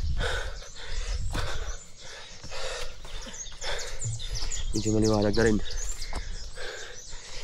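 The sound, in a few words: birds singing on Mt. Isarog mountain trail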